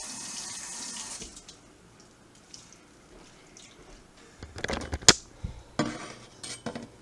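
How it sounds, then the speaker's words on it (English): Water runs and splashes through the spring-loaded ball valve of a Sanke keg coupler while it is rinsed, a steady hiss of flow followed by sharper metallic clinks and splashes near the end. "Just press on that ball. It's gonna rinse off the inside of that uh, rubber seal."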